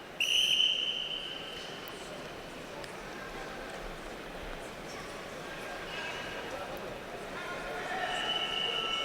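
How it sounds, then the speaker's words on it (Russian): At a freestyle wrestling championship, a referee's whistle gives a short, sharp blast at the start and another near the end, heard over a steady arena crowd murmur with faint talk. "И свисток."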